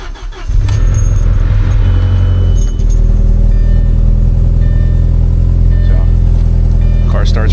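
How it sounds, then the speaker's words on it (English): An Audi A4 B6 engine cranks and catches after a fuel pump seal replacement, then settles into a loud, steady idle rumble close by, with a few light rattles and clinks over it. "Car starts right up."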